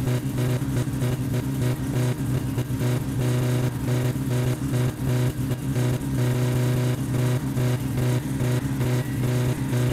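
A car engine in My Summer Car revs hard and continuously, a loud, rough droning roar rising and falling across the whole stretch, with no voices over it.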